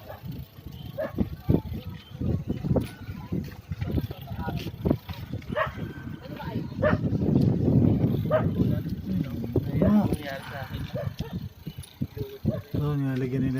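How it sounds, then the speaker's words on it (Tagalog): A dog barks in short bursts during a bicycle ride through rural farmland, the barks mixed with wind, rolling bike noise and people talking nearby. "May aso pa."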